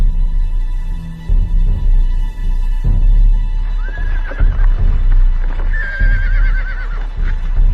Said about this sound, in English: Both sides left their horses behind.